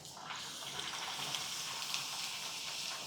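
Puri dough frying in hot oil, a steady soft sizzle and hiss bubbling continuously at low level, close by with no voices.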